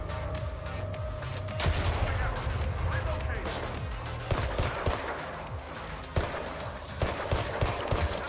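Gunfire in a gangster city video game comes as loud, rapid bursts of shots that repeat across the clip over a busy game soundscape.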